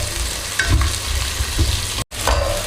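Steady sizzling of vegetables sautéing in a hot pan for veg pulao, with occasional scraping stirs and a brief dropout near the end.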